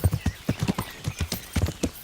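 Horse hooves clip-clop at a steady walking rhythm in a medieval video game, close and clear, with a quick regular beat.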